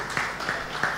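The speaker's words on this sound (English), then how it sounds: "Give a big clap to Be'er Sheva." Conference audience at a digital keynote in Tel Aviv claps for a university: a brief, sparse burst of a few distinct claps within a second, fairly close and without talk.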